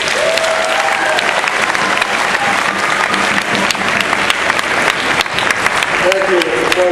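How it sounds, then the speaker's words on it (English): Audience applause at a 50th anniversary celebration fills the room, loud and continuous, with a few whoops and faint voices rising over the dense clapping. "Let's round of applause for Coach Logan."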